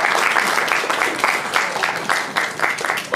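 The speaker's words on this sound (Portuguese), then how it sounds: "Vocês podem bater palmas." An audience at a seminar on municipal elections and the international situation breaks into dense, sustained applause, many hands clapping together without pause.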